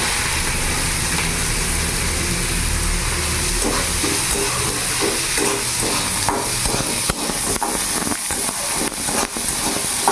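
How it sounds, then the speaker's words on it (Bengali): A large chopped onion fries in oil in a pan for an egg and potato curry, a loud, steady sizzling hiss with intermittent stirring scrapes and clicks toward the end. "পেঁয়াজটা একটু ভাজা ভাজা করে নেবো"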